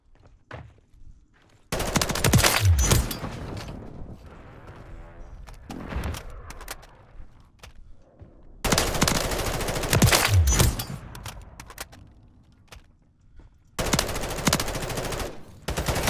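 Bursts of automatic M4 rifle fire in Call of Duty: Modern Warfare III, three loud sustained volleys separated by quieter gaps with faint game noise.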